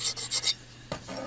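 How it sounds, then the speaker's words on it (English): A safe file rasps across the dovetail edge of an adjustable auger bit's cutter in a quiet workshop, giving three or four short strokes in a quick rhythm, a pause, then one more stroke, close and fairly loud. "we would once again take our safe file and file this surface here"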